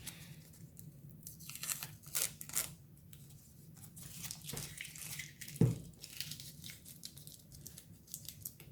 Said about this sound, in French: On retire le scotch.